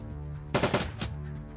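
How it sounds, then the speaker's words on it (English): Automated turret gunfire in Shadowrun Dragonfall: after a quiet pause, a short rapid burst of about four shots fires close and loud, then cuts off, leaving a low background hum. "You stop shooting Max, okay?"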